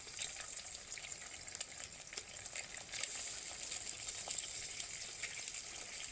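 Eggs frying in white oil in a pan, a continuous bright sizzle and crackle at moderate level with scattered small pops and a brief spatter burst midway, no talk.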